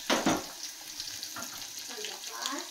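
Curry leaves and dried red chillies with garlic frying in hot oil for a nuggekai sambar tempering, a steady close sizzle and crackle with a few louder pops near the start.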